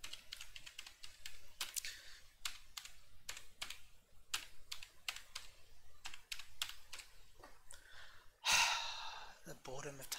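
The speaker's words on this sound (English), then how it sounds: "The boredom of typing in passwords" Fast irregular clicks of a computer keyboard as a password is typed, close and steady for most of the stretch, with breathing and a sharp breath or sigh near the end.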